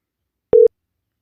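A single short electronic call tone sounds from a PC-to-PC VoIP telephone call, one clean steady beep lasting a fraction of a second and followed by silence.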